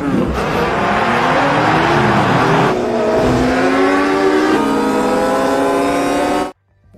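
Kawasaki 600 RR superbikes launch at the start of a motorcycle race, engines revving hard and rising in pitch as several bikes accelerate away together, loud and close, before cutting off abruptly.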